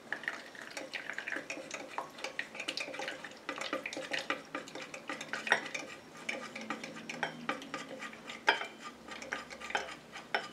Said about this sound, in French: Je viens rajouter ma phase aqueuse à ma phase huileuse tout en mélangeant.